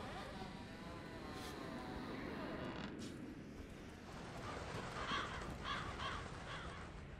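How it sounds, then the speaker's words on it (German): Crows caw in the game Dark Souls 3, a few faint calls over a steady rushing, wind-like ambient bed that runs continuously throughout. "Die Krähen."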